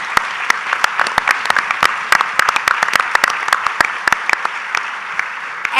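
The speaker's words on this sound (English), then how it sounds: "Let's give them another big round of applause" A community forum audience on poverty applauds a panel, a steady roar of clapping with sharp individual hand claps cutting through the whole stretch.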